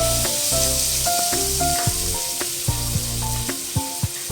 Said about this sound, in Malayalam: ഇനി നമുക്ക് ചിക്കൻ ഒന്ന് റോസ്റ്റ് ചെയ്തെടുക്കണം